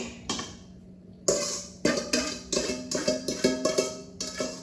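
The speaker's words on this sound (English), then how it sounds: "Pour your filling into your pie dish." A metal utensil knocks and scrapes against a pie dish while homemade cherry pie filling is poured in, giving a quiet series of sharp clinks in an uneven rhythm with short pauses between them.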